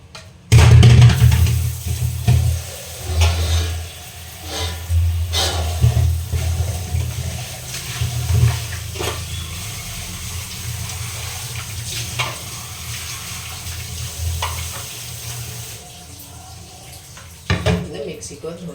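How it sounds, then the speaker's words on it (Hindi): A mixer grinder jar is washed under running water in a home kitchen, with steady splashing, clinks and knocks of the jar, and someone speaking now and then. "मिक्सी को धो लेते हैं।"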